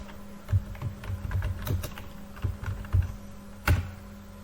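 Keys clatter on a computer keyboard as a Google search is typed, a close, irregular run of clicks with a few louder strokes over a faint steady hum, no talking.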